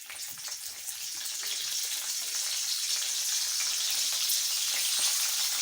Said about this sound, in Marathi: त्यासाठी गरम तेलामध्ये आपण वाटाणे